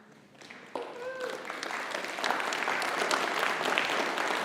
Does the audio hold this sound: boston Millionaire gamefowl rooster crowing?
no